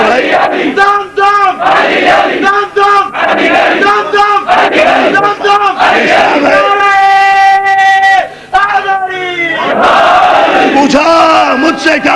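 Crowd at a religious majlis chanting slogans together in loud, rhythmic bursts, a dense mass of voices rising and falling repeatedly across the whole stretch, with a sustained drawn-out chant near the end.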